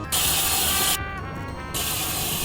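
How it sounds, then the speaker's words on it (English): A spray paint can sprays in a video game, producing a loud, close hiss in two bursts separated by a brief quieter gap, with no speech over it. "Spray paint."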